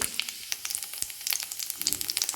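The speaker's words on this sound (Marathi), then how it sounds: "इथे मी तेल गरम करायला ठेवलेलं आहे त्यामध्ये टाकूया मोहरी मोहरी तळतल्यानंतर टाकूया त्यामध्ये जिरे" Mustard seeds and cumin sizzle in hot oil, a crackly frying hiss studded with sharp popping spatters that grow busier toward the end, close and moderately loud with no talk.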